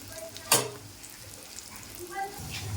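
Spiced fish masala frying and being stirred in hot oil in a pan, a steady soft sizzle with a single sharp scrape of the spoon near the start and faint clinks later.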